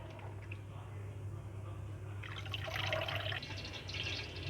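Spinach greens for saag aloo are rinsed in water, with faint, soft splashing and trickling that grows a little livelier in the second half.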